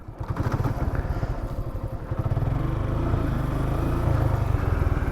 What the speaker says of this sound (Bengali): এখন আমি থ্রোটল ঘুরাই বাইকের টপ স্পিড উঠাবো